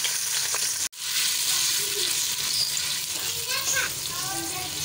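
Ground onion paste frying in a pan with garlic and ginger for palak paneer, a steady loud sizzle filling the whole clip after a brief dropout near the start, with faint children's voices in the background.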